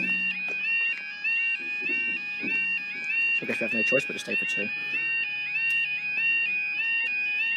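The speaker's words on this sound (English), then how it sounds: "That alarm's really loud." A loud, repeating two-tone electronic railway level crossing alarm in East Sussex beeps in a steady pattern while people talk nearby and a rumble passes briefly underneath.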